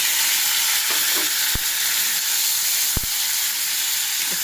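Ground cumin, ginger and green chili paste with salt, turmeric and a splash of water fries in a pan, a dense steady sizzle with a couple of sharp utensil knocks and no talking.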